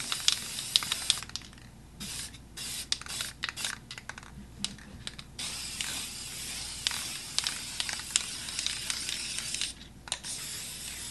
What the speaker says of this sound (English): I don't know how I get spray paint all over everything.